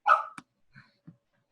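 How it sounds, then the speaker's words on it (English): A dog gives one loud bark up close, then two much fainter, shorter yips or whimpers follow in an otherwise quiet room. "or was that a dog?"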